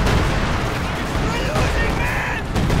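Howitzer artillery fire in the video game Company of Heroes 2, a dense, loud barrage of booming shots and blasts filling the whole stretch with no pause, a battlefield mix with a voice faintly under it.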